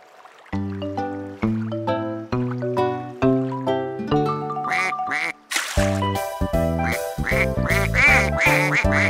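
Repeated duck quacks blend into a bright, bouncy children's song melody, sounding close and loud with no pauses between bursts.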